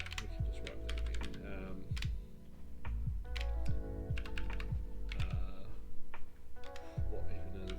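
Rapid clattering keystrokes of someone typing code on a computer keyboard, close and busy in uneven bursts with brief pauses, over a low background hum and occasional faint voice.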